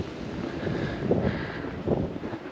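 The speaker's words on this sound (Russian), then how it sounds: "Да, ветрище." Strong wind buffets the microphone outdoors on the bank of the Yenisei near Divnogorsk in Siberia, a low rumbling roar with gusts swelling and fading, and no voices.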